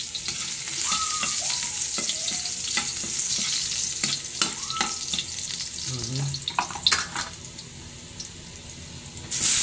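Chopped garlic sizzles in a hot pan, with a steady crackling fry, clinks of a utensil and some light background noise.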